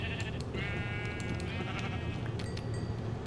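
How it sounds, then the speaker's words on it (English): A Minecraft sheep gives a drawn-out bleat over a constant background hum, close and clear, with no talking. "let's grab some sheep so I can make a bed."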